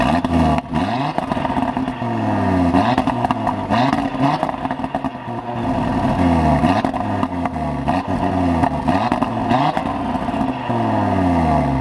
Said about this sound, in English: have a quick listen to the rather aggressive and delightful exhaust note.